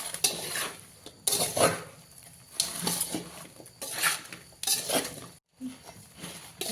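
Raw mango pickle coated in masala is stirred in a pot, giving repeated scraping clinks of a spoon against metal in irregular bursts, close and fairly quiet with short pauses between strokes.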